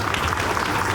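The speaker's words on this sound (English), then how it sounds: "Parents and students, please give them a big round of applause." Applause from parents and students at a school investiture ceremony, a dense steady clapping from a large crowd that fills the whole moment without a break.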